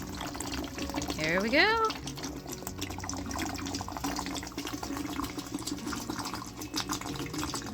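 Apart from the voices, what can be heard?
water draining from aquarium gravel cleaner hose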